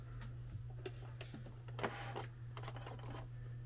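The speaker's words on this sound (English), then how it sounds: "let me grab my sewing machine. Let's sew." A sewing machine stitching fabric for a small keychain, a quiet steady mechanical hum with soft ticking bursts of needle action, heard close and alone.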